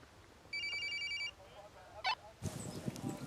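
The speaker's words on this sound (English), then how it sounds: "Phone's ringing." A short electronic phone ring chirps once, fairly faint, followed by a brief click and then room noise with movement.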